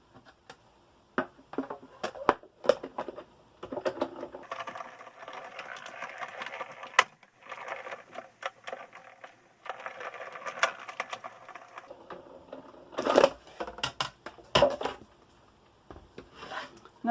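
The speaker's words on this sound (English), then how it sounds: "Pass this through my die cutting machine." A craft die cutting machine cranks a metal die and plate through to cut a shape, giving a close, uneven run of grinding, rubbing mechanical passes with brief clicks and pauses between them.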